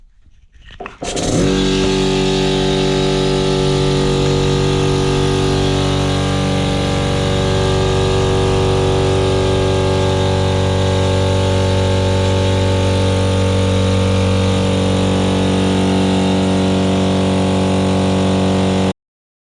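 An air compressor on newly changed mounts starts up and then runs steadily and loudly, a constant motor drone with a strong mechanical hum that holds until it cuts off abruptly near the end.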